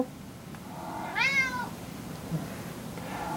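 A cat gives a single short rising meow, close and fairly clear, over a faint room hiss.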